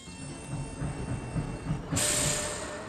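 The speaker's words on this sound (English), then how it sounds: "They took a train ride to the pier." Steady rumble and rattle of a cartoon train ride in Madeline, with a rushing hiss that grows louder near the end; no talking.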